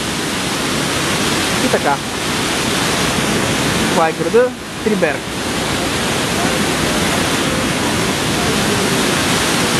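The Triberg waterfall rushes with a dense, constant roar close by, while someone speaks briefly over the water around the middle.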